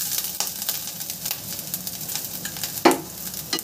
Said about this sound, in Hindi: अब इसमें हम कटा हुआ जिंजर और अदरक लहसुन जो कि हमने कद्दूकस कर लिया, इसे हम ऐड कर देते हैं